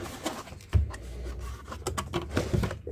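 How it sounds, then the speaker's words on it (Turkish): Short scraping and rustling handling sounds with a soft thump, like a mechanical keyboard's cardboard box being pulled open nearby, no voices. "kutusunu açıyorum."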